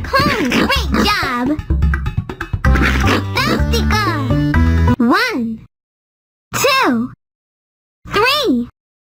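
Baby pigs in a Dora farm video game give high, swooping cartoon oinks: a busy run of squeals over background music, then two short isolated oinks separated by silence.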